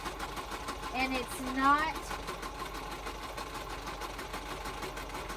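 A sewing machine stitching the binding on a spring journal cover runs with a steady mechanical hum and rapid needle rattle, while a person talks over it.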